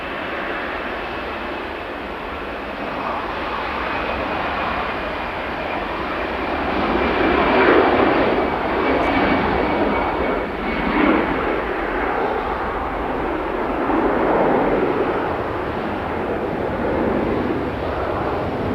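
EasyJet airliner at Manchester Airport, its jet engines producing a steady broadband roar that swells toward the middle and stays loud and continuous throughout, with no talk.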